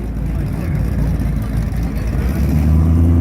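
A BMW M5 pulls away at a cars-and-coffee meet, its loud engine rumble rising steadily over crowd chatter and building toward the end.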